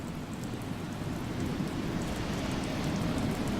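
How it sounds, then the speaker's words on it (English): Steady rain pours continuously in the game Leviathan: The Old City, a dense even hiss of drops with a low rumble underneath and no voices. "Nice rain sound."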